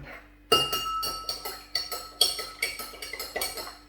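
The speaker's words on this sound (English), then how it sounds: "and if I give it a stir" A utensil stirs bleach into indicator solution in a glass container, giving a rapid series of bright, close clinks and taps against the glass, about ten knocks in a loose rhythm with no talking.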